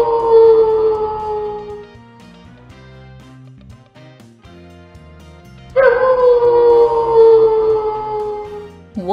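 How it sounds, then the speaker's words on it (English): A wolf's long, wavering howl rises and fades, then a second howl starts loud and slowly trails off, with a quieter stretch of background sound between them. "Wolf."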